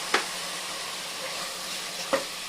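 Mutton pieces sautéing in a pan after ginger-garlic paste, a steady soft sizzle with two brief scraping stirs, close and fairly quiet.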